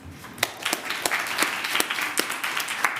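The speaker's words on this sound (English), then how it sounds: "a big round of applause from the live audience here in Vilnius" Sparse, scattered claps from a live audience at a circular-fashion pitch demo day in Vilnius, individual sharp hand claps standing out over a thin bed of crowd noise rather than building into full applause.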